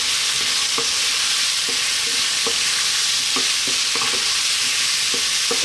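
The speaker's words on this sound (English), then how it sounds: "Get those spices mixed in there." Spices (coriander, cumin, turmeric and chili) being stirred into potatoes frying in a pan for dry Bombay aloo curry, with a steady sizzle and repeated scraping knocks of the spoon against the pan.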